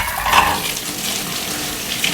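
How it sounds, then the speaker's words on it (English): Kitchen tap runs steadily as hands are washed, a close, continuous splash of water against the sink with small fluctuations, alone without talk. "Let me just wash my hands."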